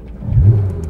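A race car engine turns over and fires, a loud, low rumbling surge lasting about a second, close by.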